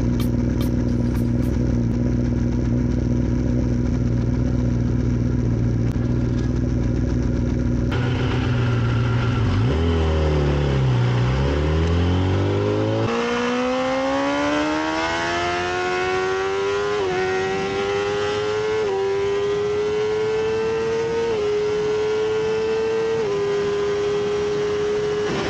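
A Kawasaki 1000 motorcycle riding on the track at Cremona, its engine loud and close, holding a steady drone, dropping through gear changes and then revving up through rising pitches, with no speech.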